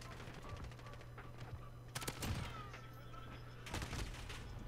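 Rapid bursts of automatic gunfire in a first-person shooter game, clipped rattling volleys with heavier booming shots near the middle and end, loud and close against a steady hum.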